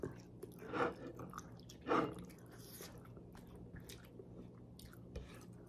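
Close, quiet chewing on chicken tinola, with two louder wet bites among soft smacking and squishing sounds, no speech.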